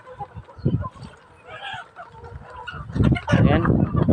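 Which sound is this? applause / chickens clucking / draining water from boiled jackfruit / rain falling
chickens clucking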